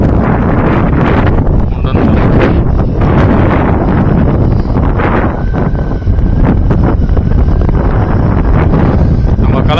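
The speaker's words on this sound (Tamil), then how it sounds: "நல்லா சில்லுன்னா இருக்குங்க காற்று" Loud, constant wind buffeting the microphone on a motorbike ride in the Kalakkad Mundanthurai Tiger Reserve, a rough low roar with gusty rustling throughout, heard up close and masking other sounds.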